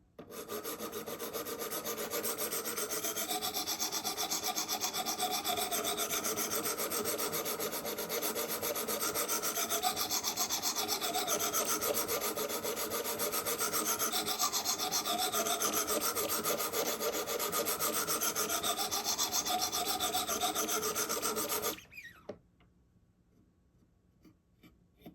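A Benchmade knife blade is worked on a Wicked Edge guided sharpening system, giving a steady, continuous rasping stroke-after-stroke rub for about twenty seconds, close and fairly loud, then stopping abruptly into near silence.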